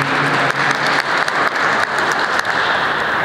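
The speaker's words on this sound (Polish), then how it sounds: "Wielkie brawa również dla naszej wspaniałej pianistki." Concert audience applauding a pianist at a Palm Sunday Passion concert, a close, loud, steady wash of clapping from many hands with a few small dips in intensity.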